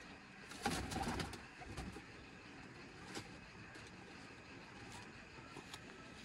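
Pigeons cooing close by in a breeder loft, a burst of soft calls at the start and then scattered quieter coos over faint background noise.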